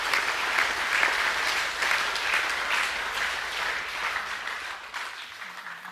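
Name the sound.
audience applause for school sports teams at assembly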